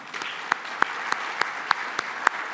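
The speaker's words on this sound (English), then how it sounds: "So can we do a quick round of applause?" Scattered hand clapping from an audience at a global progress summit, moderately loud with a few sharp, distinct claps standing out over a steady patter.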